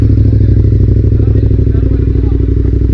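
A KTM ADV 1190 R motorcycle engine runs close by with a steady, throbbing idle-to-throttle drone, loud and continuous, with a person speaking over it.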